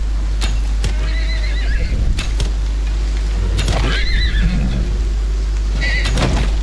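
A mutated horse in the survival video game Icarus, heard as several loud, close neighs and whinnies with thudding hoof sounds, set against a steady low rumble.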